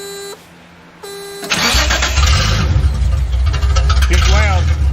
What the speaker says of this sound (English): let me fire this thing up and let you guys hear it.